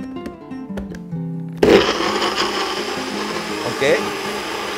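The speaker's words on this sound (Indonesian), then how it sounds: "Sekarang kita haluskan." A blender starts up abruptly after a few quiet clinks and grinds chili paste with water in a loud, steady whir close by; a voice says a short word over it.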